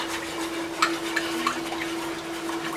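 Coloring is stirred into melted soy wax with a utensil, giving soft scraping swirls and a few light taps against the container over a steady faint hum, with no voices.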